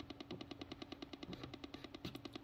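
A KA500 emergency radio on a low battery gives off a rapid, rattling crackle like machine-gun fire, a steady burst of pulses close up with no talk over it.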